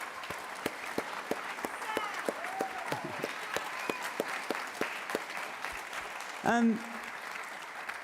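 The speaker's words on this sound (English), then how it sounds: "So please, great applause to you," Audience applause for a plenary panel at a global forum, sustained clapping with distinct individual claps across the room, and a brief voice cutting in near the end.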